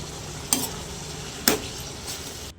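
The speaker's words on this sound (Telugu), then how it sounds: "మేకప్ కిల్లి వేసుకోవాలండి అలాగే నేను లివర్ పీసెస్ కూడా వేసుకున్నాను బాగా వేయించుకోవాలండి" Goat kidney and liver pieces fry in hot oil with a steady low sizzle, broken by two quick spoon scrapes against the pan, heard up close before cutting off abruptly.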